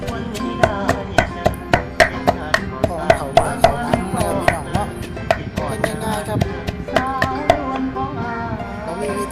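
A pestle pounds jaew chili dip in a mortar, close and loud, with a steady run of sharp thuds at roughly two to three per second, under a voice talking.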